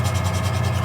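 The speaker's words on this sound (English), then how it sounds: "grab a hone and remove the remnants of that, and find the bevel angle and just hone the bevel" A hone rubbing along the bevel of a steel scraper: a short, steady, close abrasive scrape with a faint rhythmic swell, heard alone.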